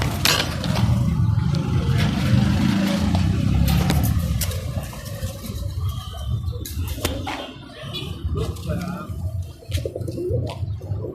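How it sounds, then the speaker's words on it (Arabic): Alexandria pigeons coo in a loft, low throaty burbling that carries on steadily, with scattered sharper clicks and flutters around them. "فرد حمام طاير"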